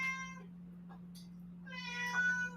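A pet cat meows twice, close and clear, with a short pause between the cries over a faint steady hum.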